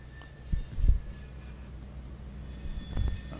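A steady low rumble of a video game train rolling along in Train Simulator, with a few dull thumps from the wheels and no voices.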